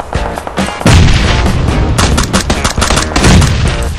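Loud close gunfire in PUBG Battlegrounds, rapid repeated shots and booming bursts coming in clusters across the whole stretch.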